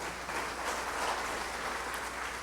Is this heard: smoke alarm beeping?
no